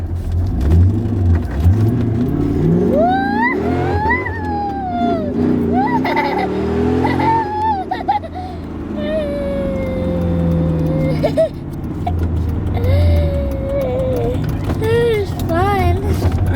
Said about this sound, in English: We did a little burnout